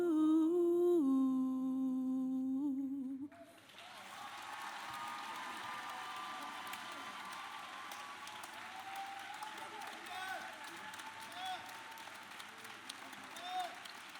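Sustained audience applause at a university Founders' Day celebration, following a choir's song: after a brief stretch of singing, a dense wash of clapping fills the room, steady and full, with a few louder claps near the end.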